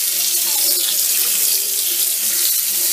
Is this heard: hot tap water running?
yes